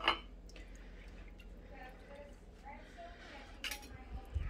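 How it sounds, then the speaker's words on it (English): Cooked onions scooped with a small metal strainer into canning jars, with soft wet drips and light clinks of metal against glass under a person talking. "I use this little strainer thing just to scoop out a couple little scoops so I know I've got plenty of onions in each jar"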